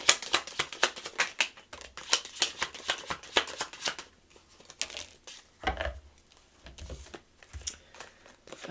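Message cards are shuffled close by in quick, crisp riffling bursts for several seconds. Softer slaps and flicks follow after a short lull.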